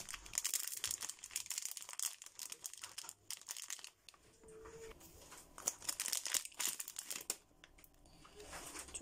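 Plastic packaging from a set of nail tips crinkles and crackles as it is torn open by hand, in irregular bursts of close, sharp rustling separated by brief quiet pauses.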